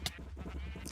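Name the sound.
sheep bleating in a mob grinder, from video game Minecraft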